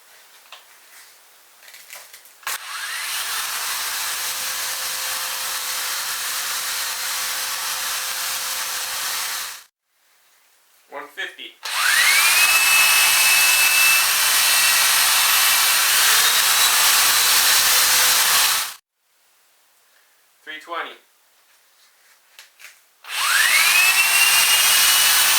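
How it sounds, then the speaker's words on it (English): A handheld drill spins a 3/8 wooden dowel while sandpaper is held against it and worked up and down, reducing it to an arrow shaft; loud steady whirring bursts of several seconds each, separated by short pauses with small handling noises. "holding the sandpaper in place and moving it up and down while I spin the drill"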